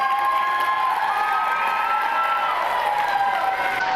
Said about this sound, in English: we want to give a round of applause to these boys